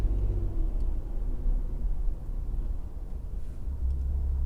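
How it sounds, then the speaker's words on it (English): Distant city traffic, a continuous low rumble of passing cars and engines, steady and broad with no distinct horns or voices. "I'm just sitting here listening to the traffic"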